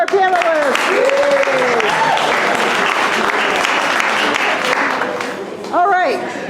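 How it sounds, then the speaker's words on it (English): Audience at a panel event applauding the panelists, dense clapping that holds steady then fades slightly, with a voice talking over it at the start and a brief voice again near the end. "Big round of applause for our panelists."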